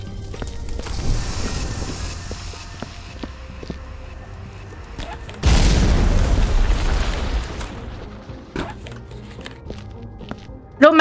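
Enemies detonate in a violent, gory video game, sending out a series of booming blasts with one large sustained explosion midway, interspersed with thuds and footstep-like impacts and some talk.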